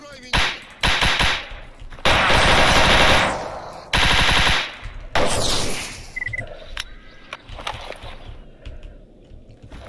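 A G36 rifle fires in the shooter game Stalker Anomaly: loud automatic bursts for several seconds, then a quieter stretch with scattered clicks and thuds.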